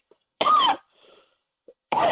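A single harsh throat clearing, close and loud, followed by a faint exhale and another rough throat-clearing burst starting at the end.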